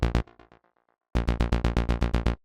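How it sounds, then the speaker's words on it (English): A sharp roller synth bass built from two saw waves, in a progressive melodic track: two punchy stabs, a run of fading echoed notes, a short silence, then a tight, loud, evenly spaced run of about nine bright plucked notes. "And the first one is this sharp roller bass,"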